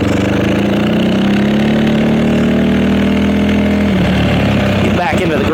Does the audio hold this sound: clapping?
no